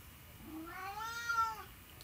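A house cat gives a single drawn-out meow, rising then falling, faint and alone in a quiet room.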